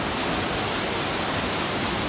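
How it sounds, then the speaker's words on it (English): Waterfall on a European road trip, heard as a loud, dense, continuous broadband rush of falling water with no pauses, close and steady throughout. "I did swim in a waterfall, though."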